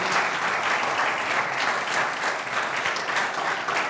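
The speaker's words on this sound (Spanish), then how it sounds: "Dele aplausos al Señor este día" A church congregation applauds during a celebration service, a thick, even wash of clapping from many people that holds steady at full strength for the whole stretch.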